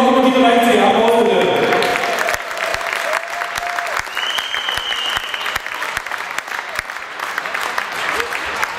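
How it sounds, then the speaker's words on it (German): Loud sustained applause from a gathered crowd honouring the first-place winners of a youth under-15 football cup, the clapping dense at first and then thinning into scattered claps with voices mixed in. "Erster Platz, erster FC, noch mal die Gemeinde, Applaus."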